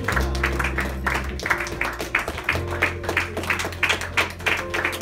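An audience at a church children's annual award ceremony claps steadily throughout, the applause fairly loud and continuous with a low hum underneath.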